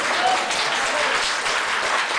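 A seated audience at an Agewell symposium claps steadily, a dense, continuous wash of many hands that holds at an even, fairly loud level throughout without pause.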